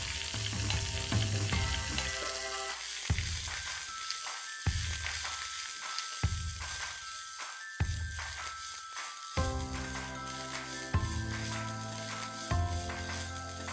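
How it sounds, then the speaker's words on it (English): Methi (fenugreek leaves) fry in very hot oil until crisp, with loud bursts of crackling sizzle that swell and fade several times over the stretch, interleaved with quieter hissing. "I'm going to fry this methi nice and crisp in that"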